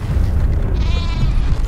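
Sheep bleating in the video game Metal Gear Survive, a wavering harmonic cry rising through the middle of the clip over a constant loud low rumble of game ambience.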